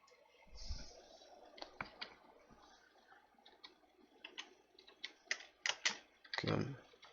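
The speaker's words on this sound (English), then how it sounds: "let's type it out." Typing on a computer keyboard, with quiet, close, irregular key clicks in short bursts that grow denser toward the end, plus a faint voice.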